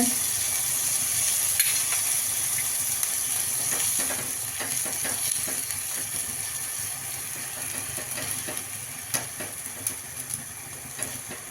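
Water boiling in a pan with lemon, chillies, salt and sugar for an idli dhokla, a steady close bubbling and sizzling hiss with faint ticking pops throughout, no talking.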